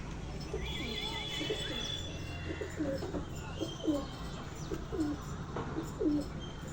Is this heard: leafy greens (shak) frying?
no